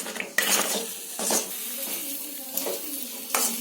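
Seembal poriyal with cane sugar being stirred in a pan, a spoon scraping and clinking against the metal in repeated strokes over a soft sizzle, close up, no talking.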